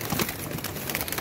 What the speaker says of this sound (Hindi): ये देखें कमाल के कबूतर हैं दोस्तों